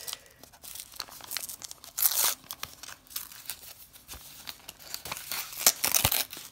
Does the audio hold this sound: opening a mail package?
yes